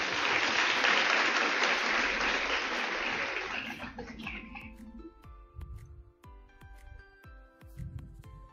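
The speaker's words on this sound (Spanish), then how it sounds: "Un gran aplauso." A crowd applauds steadily and loudly, then the clapping fades out as music begins playing.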